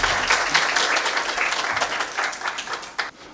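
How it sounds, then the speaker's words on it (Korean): Steady applause from an audience at a university graduate school admissions information session, dense clapping that continues throughout and thins slightly toward the end. "큰 박수 부탁드리겠습니다"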